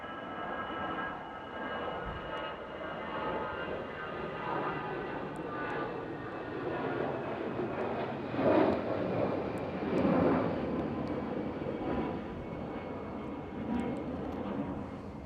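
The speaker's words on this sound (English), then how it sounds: "Just see the TUI Dreamliner going off to Rhodes." A TUI Dreamliner departs Manchester Airport bound for Rhodes, its jet engines a broad, steady roar from a distance that swells slightly toward the middle and holds without a break.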